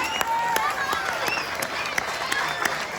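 A school audience gives steady applause to teachers and student teachers called to the front, a continuous patter of many hands with crowd voices and cheering woven through.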